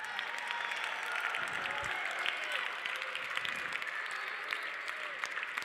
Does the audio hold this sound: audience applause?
yes